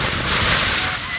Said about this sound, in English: This video of waves slamming a parked car near Rockaway Beach is one of so many sent to us from Oregon's coast